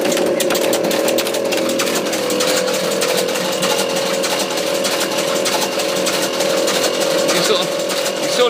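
A pneumatic walking robot driven by a compressor runs at full speed, giving a loud, steady mechanical buzz with a constant hum and rapid clattering throughout.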